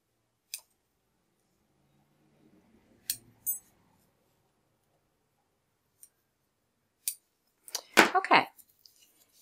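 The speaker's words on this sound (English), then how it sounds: "Once again, we're going to snip our threads." Scissors snipping sewing threads on a martingale collar, a few sparse, sharp little clicks spread across near-silence, followed by a brief burst of handling noise.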